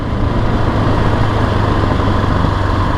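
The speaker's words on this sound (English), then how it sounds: "You roll through the gears, engine brake." Engine braking on a 2020 Husqvarna 701 SM motorcycle, a steady, loud, low single-cylinder drone with no talk, holding even throughout.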